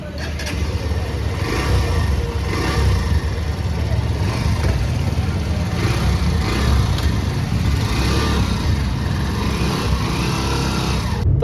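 A new Hero Xtreme 125R motorcycle idles outside a showroom with a steady, close engine rumble that holds a fairly even level throughout, with no clear revving.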